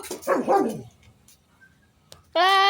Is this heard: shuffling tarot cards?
no